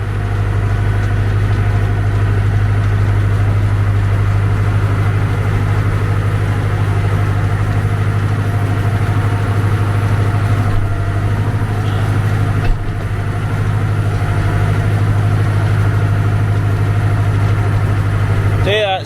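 A tractor's PTO drives a feed wagon, a steady low engine drone with mechanical hum running continuously and close, with no clear change in pace throughout.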